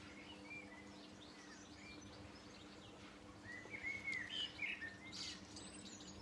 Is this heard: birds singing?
yes